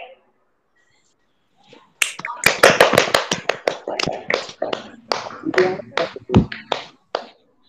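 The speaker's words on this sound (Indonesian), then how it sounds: "mari kita berikan aplaus untuk kita semua pada hari ini" A school class claps together at the end of a lesson, a sudden burst of dense, close applause that continues for several seconds before it thins out. A voice is briefly heard just before the clapping begins.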